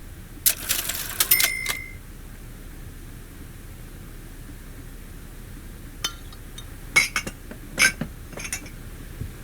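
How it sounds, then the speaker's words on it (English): Occasional glass clinks ring out in a quiet pub setting from a Coronation Street video game, a few bright clustered chinks near the start and more scattered ones later over faint background hiss. "we have silence along with the occasional glass clink to let us know that we are indeed in a pub"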